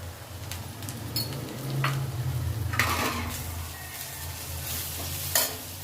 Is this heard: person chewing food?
no